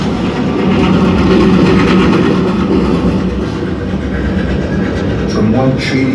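A train rolls along a railway in Alberta, Canada, a loud continuous rumble with faint rhythmic clatter and a brief squeal near the end.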